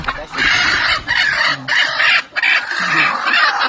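A flock of native village hens on a farm fills the air with dense, continuous clucking, loud and close, broken only by a few short pauses.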